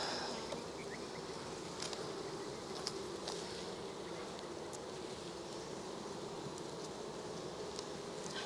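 Steady, dense buzzing of honeybees during a first spring inspection of a Cooper hive, holding as a continuous drone close by and without any voices throughout.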